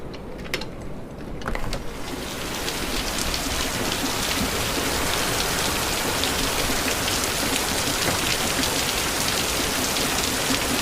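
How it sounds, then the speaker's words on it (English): Heavy rain pours steadily in a dense, unbroken hiss, close and loud, building within the first couple of seconds and then holding at full strength. "My God, this has been some crazy weather this year. Look at this rain."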